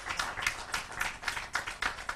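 An audience at a launch event for a digital building industry management system claps in a fairly regular rhythm, each beat landing about a quarter second apart, with the sound coming across soft and somewhat distant.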